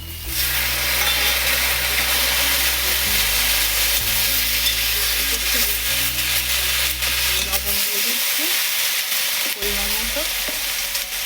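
Coriander and cumin paste stirred in a pan while cooking sukto, a steady close sizzle with a spatula scraping rhythmically over a low constant background hum throughout.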